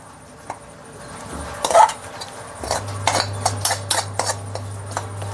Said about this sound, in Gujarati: બીજા વાસણમાં અત્યારે લઈ લઉં છું જો આ થાળીમાં લઈ લઉં અત્યારે